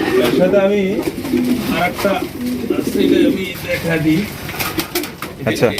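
Pigeons kept for sale coo in deep, throaty, repeated calls, loud and close, with several birds overlapping continuously.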